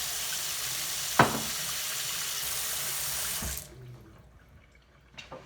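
Tap water runs steadily into a sink while something is rinsed out, a loud broadband rush with a knock partway through, then it shuts off leaving a quiet room and a faint clatter.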